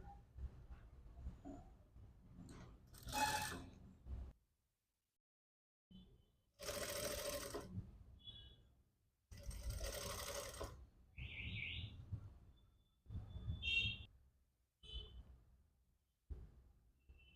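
A sewing machine stitching a fabric piece for a puff-sleeved princess-cut blouse in knitted cloth, in several short bursts of fast mechanical whirring separated by pauses, close and fairly loud, with a few faint chirps between runs.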